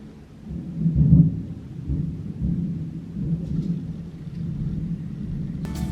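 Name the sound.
thunder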